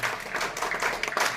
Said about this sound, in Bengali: আমাদের শুভাশীষ বিশ্বজিৎ স্যারের জন্য একটা হাততালি